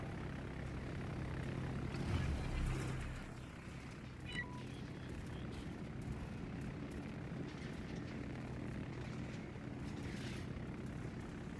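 Bomber aircraft squadron in World of Warships, a steady low propeller-engine drone holding throughout, swelling slightly early on with a faint distant whine, moderately quiet and continuous.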